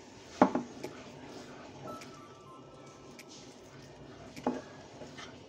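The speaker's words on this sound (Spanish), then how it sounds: "Y seguimos removiendo" Prawns in coconut curry sauce are stirred in a pan, with a couple of faint scraping clinks of a utensil against the pan over a soft, quiet background.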